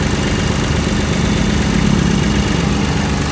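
A Kubota L2202DT Japanese tractor with a low-hour engine running steadily nearby, a loud, even diesel rumble with constant vibration and no talking.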